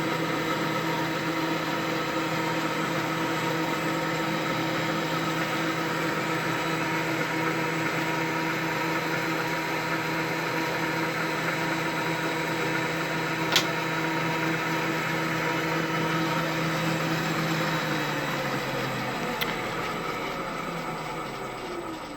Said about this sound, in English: You can see the down feed's going faster